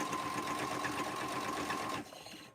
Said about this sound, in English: And I always sew back up and over.